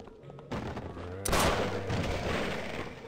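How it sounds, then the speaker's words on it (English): Gunfire in Sven Co-op's They Hunger campaign: repeated gunshot bursts with booming, reverberant tails, one sharp loud blast near the middle, under a steady busy game backdrop. "I'm hearing guns."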